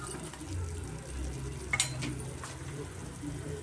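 Rice being stir-fried in masala and oil in a pan for green peas pulao, a soft continuous sizzle with light scraping of a stirring spoon and one brief clink, fairly quiet.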